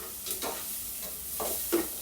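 Garlic and onion stir-fried in a pan for chopsuey, soft sizzling broken by several quick scraping strokes of a spatula, close and fairly quiet.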